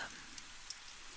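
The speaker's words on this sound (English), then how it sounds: "Because I'm trying to figure out like the rain sounds thing." Soft, steady rain patter hisses evenly at a low level, with a few faint drop ticks and nothing else over it.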